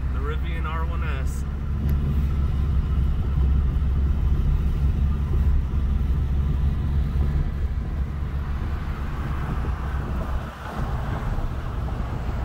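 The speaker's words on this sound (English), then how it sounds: "There it is, the Rivian R1S." Rivian R1S electric SUV passing on a road, heard as a steady loud low rumble with wind buffeting the microphone, a passing vehicle sweep near the end.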